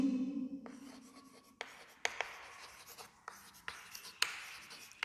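Chalk or marker strokes on a classroom board while a teacher writes chemistry terms: a series of sharp taps and short scratchy strokes up close, spaced irregularly, with a faint voice at the start.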